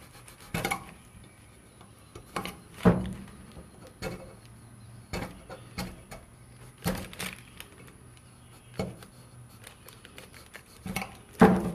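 A trimming tool slices off the bigger pieces from a clay cup. Quiet, irregular scraping strokes and light clicks come close by, spaced a second or two apart, with no voices.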